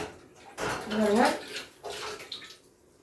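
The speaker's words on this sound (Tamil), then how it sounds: "இட்லி துணி கொஞ்சம் நனைச்சி எடுத்துக்கலாம்." An idli cloth is dipped and wrung out in water, giving a short burst of splashing and trickling that lasts about a second, then a second, softer slosh, heard up close in a quiet kitchen.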